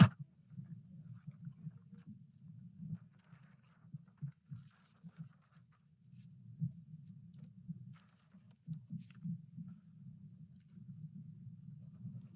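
Graphite pencil tracing over tracing paper while transferring a thumbnail sketch, a soft, steady scratchy scraping that runs continuously with small rhythmic swells, close and quiet, with no talking.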